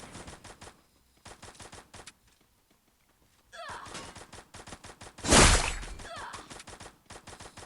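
Rapid bursts of automatic gunfire crack repeatedly in a Garena battle-royale shooter, with short pauses between volleys and one much louder, closer blast near the end.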